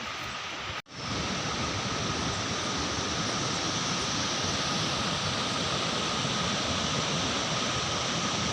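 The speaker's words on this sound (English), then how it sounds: "Pavati river, which is coming from the Rataban glacier, and look at the sound of this river." The glacier-fed Pavati river, flowing down from the Rataban glacier, pours past in a steady, dense rushing roar that is close and unbroken, with a brief dropout near the start.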